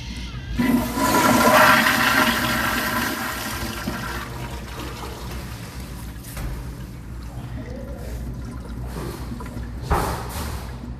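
A toilet flushes a clog of wadded paper through the P-trap: a loud rushing surge that peaks early, then settles into a lower gurgling drain, with a brief splashing burst near the end.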